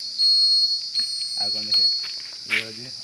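A Honda CB Unicorn motorcycle's right turn indicator beeps in a repeating electronic tone over a steady high hiss, loud and close, with someone speaking briefly.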